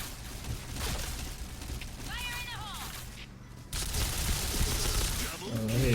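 Bursts of Kriss XMAS 2015 gunfire in a shooting video game, dense rapid fire across most of the span with a short lull midway, mixed with game effects and a voice talking over it.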